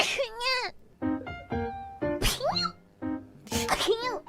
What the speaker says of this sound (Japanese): Cute Sneeze Award.